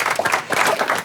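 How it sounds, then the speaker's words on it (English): An audience at a startup pitch event claps together in a dense, steady burst of applause, loud and close, lasting the whole moment. "Let's give a big round of applause"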